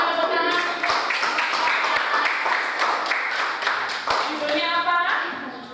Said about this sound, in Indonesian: Ya, berikan tepuk tangan.